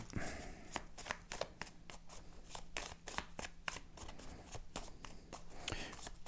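Playing cards dealt one by one onto a table into a three-by-three grid, giving a steady series of crisp slaps and flicks at close range over a low constant hum, with no talking.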